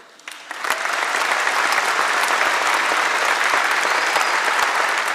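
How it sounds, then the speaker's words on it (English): A large audience in an aircraft hangar at a veterans' ceremony breaks into applause for spouses and families, rising quickly from quiet into loud, sustained clapping that fills the space. "Let's also have a round of applause, most importantly, for the spouses and family members of our veterans."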